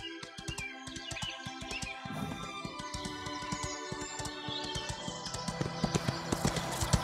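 Horse hooves in the Ostwind video game clop in a quick, steady rhythm against a busy game soundtrack with bird chirps and other effects.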